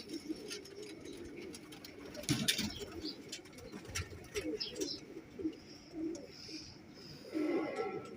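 A golden male pigeon coos nearby in low, rolling repeated phrases, with other birds chirping faintly and some background rustle throughout.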